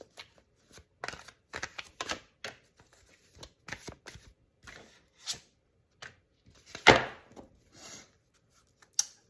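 Angel Therapy Oracle cards being shuffled by hand, a series of soft, close, irregular riffs and flicks with quiet pauses between, one louder slap of the deck near the end.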